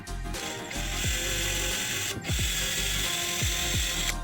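A drill bores a slightly undersized pilot hole into wood for a screw as part of building a wooden bow, whirring steadily up close with several short ratcheting catches along the way.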